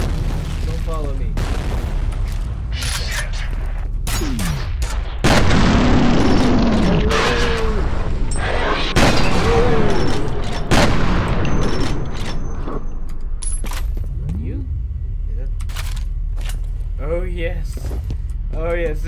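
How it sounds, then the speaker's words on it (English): Shotgun blasts in F.E.A.R., a cluster of heavy booming shots with metallic pump and handling clatter, partly slowed and smeared, heard among talking and other game noise. "this is the gun that makes going slow-mo so awesome"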